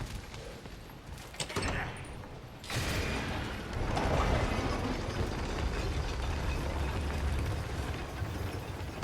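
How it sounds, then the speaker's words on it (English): A crank mechanism is turned in the video game God of War Ragnarök, giving grinding, ratcheting mechanical noise that builds into a sustained rumbling churn. "I got the crank covered."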